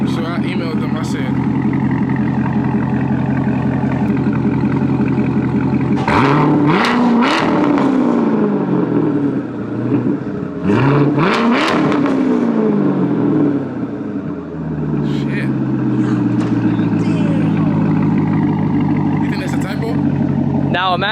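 A C7 Corvette with headers and an X-pipe exhaust holds a loud, steady idle, then blips its throttle in several sharp revs that rise and fall. Someone talks over the engine throughout.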